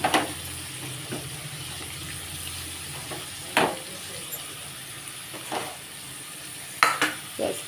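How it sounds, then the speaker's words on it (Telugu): Chopped onion pieces fry in a pan for a jackfruit seed curry under a gentle sizzle, punctuated by several distinct scrapes and clinks of a spoon stirring against the pan. "ఈ ఉల్లిపాయ ముక్కలు వేసేసాక లైట్గా ఈ ఉల్లిపాయ ముక్కలు ఇలా వేగుతున్నప్పుడే"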